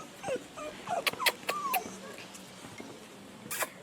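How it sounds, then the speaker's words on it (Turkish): A small black-and-white dog whimpers and yips in short, high-pitched bursts at close range, with a few soft rustles between the cries, in the old Greek village of Doğanbey, Turkey. "Şimdi size burada bir tane minik minnoş bir köpek var."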